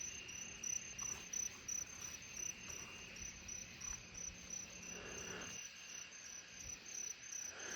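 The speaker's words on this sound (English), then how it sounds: "it sounds like there's Colombian trigs in this tree too that just started calling." Colombian trig crickets calling from a tree at night, a thin high-pitched continuous trilling pulsing in short bursts, moderately distant over faint background insects.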